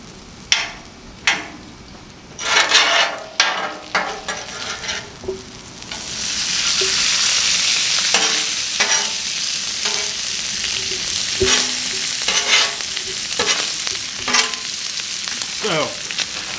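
Thin-sliced Philly cheesesteak meat crisps on a Blackstone griddle. A steady sizzle swells after a few seconds and is punctuated by repeated sharp clacks and scrapes of a spatula on the flat top.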